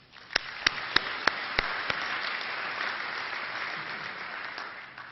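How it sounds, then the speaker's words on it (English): Graduates' round of applause at a spring graduation ceremony, a few distinct opening claps swelling into a sustained, even wash of crowd clapping in a large hall, with no talk. "I think you all need to give yourself a round of applause"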